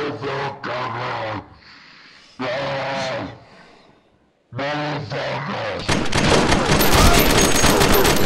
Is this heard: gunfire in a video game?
yes